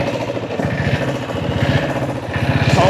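A diesel-engine motorcycle runs close by, a steady low, chugging engine rumble with rapid even firing pulses that swells slightly louder toward the end, with no talk over it.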